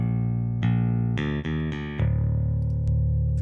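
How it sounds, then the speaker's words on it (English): Dry, unprocessed bass plays a few deep sustained notes, the last one ringing out, with no other instruments or voices. "let's just listen to the bass again as it is"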